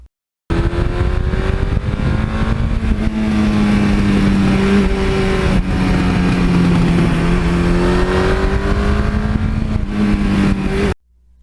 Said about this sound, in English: When I put the 86 exhaust system on here, it's a little more rumbly than the stock one.